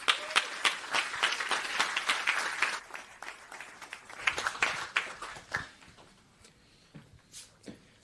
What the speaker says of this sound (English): Give a big round of applause for Alp.